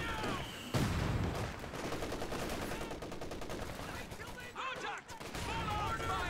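Machine gun fire rattles through a real-time strategy battle in rapid, steady bursts with distant crackling shots, all under a commentator's continuous talk.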